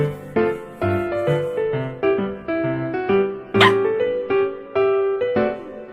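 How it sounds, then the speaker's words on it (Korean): Small dog barking repeatedly indoors in short yappy bursts, several barks per second with one sharper, louder yelp partway through, close to the listener and with no talk over it. "둘리가 많이 짖네요."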